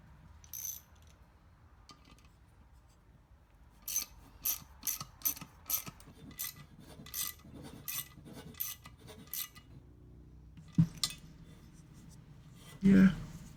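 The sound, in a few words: bolt being run down into engine block, cutting threads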